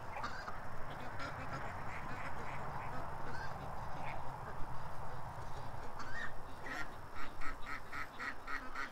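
A flock of geese honks and quacks in an irregular, overlapping chorus, moderately near but soft, growing busier toward the end with rapid clustered calls.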